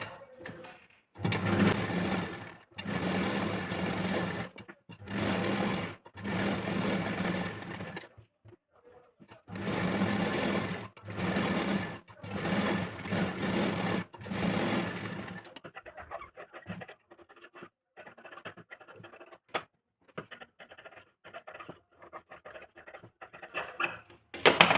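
Domestic sewing machine stitching katori pieces for a blouse, running in several bursts of steady, loud motor whir separated by short pauses, then fading into quieter scattered handling noises and small taps.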